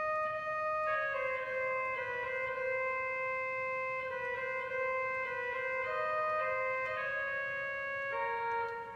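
An organ plays the trio theme of Sousa's Stars and Stripes Forever, sustained melody notes moving smoothly over held harmony, soft and unaccompanied.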